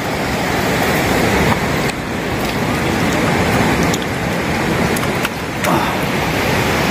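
A mountain river near the Legship hot springs rushes past in a loud, continuous broadband roar that fills the whole stretch, with a few faint clicks and no talk.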